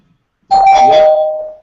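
A doorbell chimes a single ding-dong, used as a sound effect to mark a change of subject. It breaks sharply out of silence, rings loud and close, then fades away.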